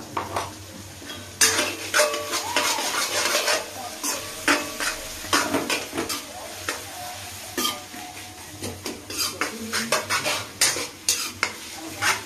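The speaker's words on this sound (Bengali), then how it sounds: "মাংসের জন্য পেঁয়াজ ভাজা হচ্ছে" Onions frying in a pot for a meat curry at a New Year picnic, with a spoon scraping and clanking against the metal pan in repeated stirring strokes over a soft sizzle, close and loud.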